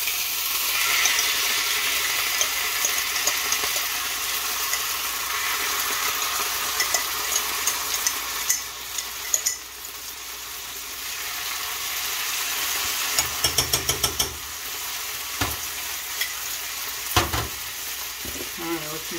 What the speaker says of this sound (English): So let's get our beans in the pot.